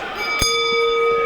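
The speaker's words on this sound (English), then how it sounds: "insisting the bell rings" A wrestling ring bell at an NGW event sounds one sharp metallic clang, with tonal ringing lines holding on afterward over the arena background.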